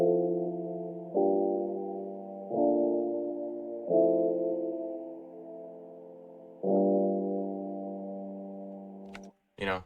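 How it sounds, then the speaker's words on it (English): A drowned-out, effects-laden piano sample made in FL Studio plays slow sustained chords at a muffled, dark, low-passed level, each chord swelling and decaying in turn before a brief cutoff at the end. "I did add a drowned out piano in my B section"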